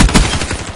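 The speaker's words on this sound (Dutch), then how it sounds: "Ik had maar 5 kogels of zo in zijn kop geschoten" Rapid, loud gunfire in Call of Duty Black Ops 3, a dense burst of closely packed shots with heavy low-end thumps and no talking.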